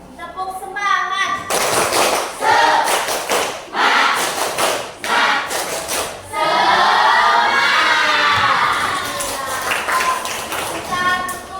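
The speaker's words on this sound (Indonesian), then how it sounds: "kita tepuk semangat dulu ya, tepuk semangat" A group of students joins in a rhythmic spirit clap (tepuk semangat) at the close of a classroom coaching session, with bursts of patterned claps, thumps and shouted chanting carrying loudly throughout.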